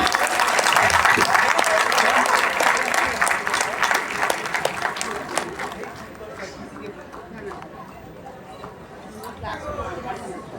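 Loud applause from a crowd at a school ceremony honouring student athletes greets a champion goalkeeper, dense clapping that gradually thins and fades to scattered claps and murmuring chatter.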